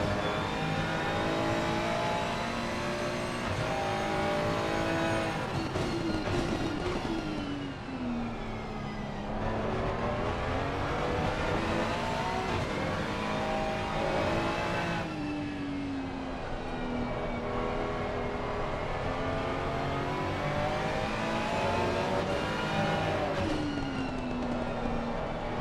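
Onboard a Ferrari race car, number 113, lapping the Barcelona circuit during a three-by-forty endurance race: the engine screams continuously, rising and falling in pitch through the gear changes and corners, loud and close.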